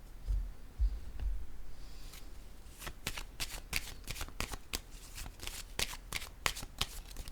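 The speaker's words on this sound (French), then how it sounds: "je vais piger une autre carte" Cards of a shuffled tarot deck slide and flick in a run of crisp, close riffling clicks after a soft rustle, with no voices.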